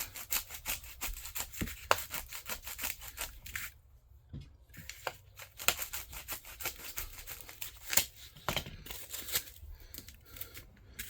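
A knife shaving and tapering the tip of a PVC short sword for Amtgard, a steady run of close scraping and rubbing strokes with a brief pause midway, moderately loud, with no talking.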